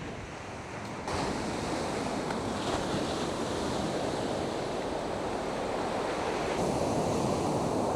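Ocean waves on the coast of Santa Maria in the Azores: a continuous broad surf roar, quieter for the first second and then steady and full, with some wind on the microphone.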